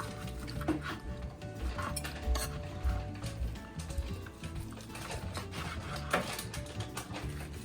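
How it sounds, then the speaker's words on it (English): A cooked doner kebab is sliced up for serving, giving quiet metallic knife and utensil clatter with scraping and tapping in an ongoing, uneven rhythm. "Our doner kebab is ready, so let's slice it up and then serve it."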